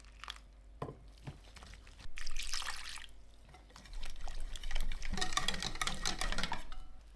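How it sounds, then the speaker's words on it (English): Water trickles and pours bit by bit into a bowl of all-purpose flour and salt batter, with intermittent stirring and sloshing as the mix comes together, close and moderately loud, no voices. "Add the little by little 1 cup and 1/4 cup of water."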